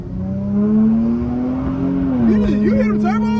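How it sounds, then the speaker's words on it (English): An Infiniti Q50 with twin turbos and a muffler delete accelerates hard, its loud exhaust note climbing in pitch and dipping during a gear change. Excited voices break in toward the end. "You hear them turbos?"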